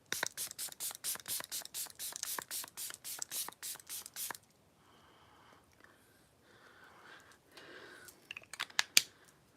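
A face spray serum gives a quick run of about fifteen sharp, close, evenly spaced pump spritzes, then a quieter pause with soft handling rustles and a few last bursts at the end.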